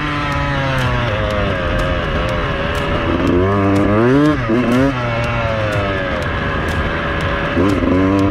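A Beta motorcycle engine revs loud and close while ridden, rising and falling through repeated throttle bursts, with a rider's voice occasionally over it.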